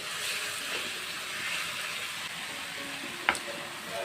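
Spice masala sautés in a pan with taro stems for a Bengali vegetarian greens dish, giving a steady, close frying sizzle and hiss throughout, with a brief sharp clink of a utensil near the end.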